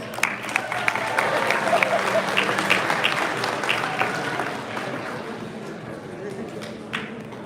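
A crowd at a Hot Wheels collectors' event applauds a contest winner, steady clapping and cheering that fades gradually, with voices mixed in beneath.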